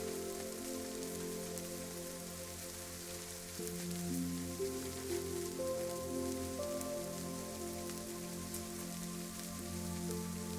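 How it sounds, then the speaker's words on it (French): Gentle, continuous rain pattering on a surface, blended with sustained soft tonal drones, calm and even throughout. "Laisse cette pluie tomber doucement sur ton jardin, sur les feuilles, les branches, la terre de ton cœur"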